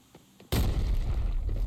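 A grenade goes off in the shooter game Arena Breakout: a sudden loud blast after quiet footsteps, followed by a sustained rumbling roar and debris noise.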